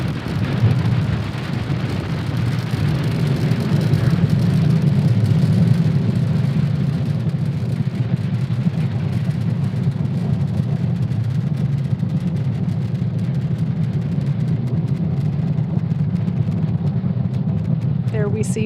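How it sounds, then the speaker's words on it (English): A SpaceX Falcon 9 carrying Starlink satellites lifting off from Cape Canaveral Space Force Station, a loud sustained deep roar that rumbles and crackles evenly throughout and fades slightly toward the end. "Falcon 9 has successfully lifted off from Cape Canaveral Space Force Station"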